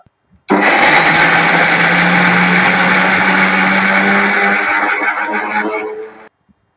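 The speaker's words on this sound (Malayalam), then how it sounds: "ഈ ചിരവിയ തേങ്ങയുണ്ടല്ലോ അത് നമുക്ക് മിക്സിന്റെ ജാറിലോട്ട് ഇട്ട് കൊടുക്കാം ഈ വെളുത്തുള്ളി ഇട്ട് കൊടുക്കാം പിന്നെ അടുത്തത് ചെറിയ ഉള്ളി നമ്മൾക്ക് ഇതൊന്ന് ചെറുതായിട്ടൊന്ന് ചതച്ചെടുക്കാം" A kitchen mixer grinder coarsely crushes grated coconut, garlic and shallots for coconut pathiri, starting abruptly into a loud, continuous high whir that runs for about six seconds before cutting off.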